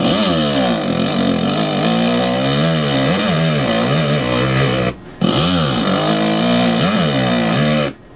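A motocross bike engine in the video game MX vs ATV Alive revs hard on the throttle, a loud buzzing wail sweeping up and down in pitch, broken by one brief drop before resuming and then cutting off.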